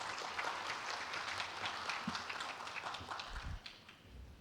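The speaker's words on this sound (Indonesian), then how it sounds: "Boleh tepuk tangan untuk FK." Scattered applause from an audience at a university ceremony honouring the medical faculty, moderate and fairly distant, tapering off toward the end with a few bumps underneath.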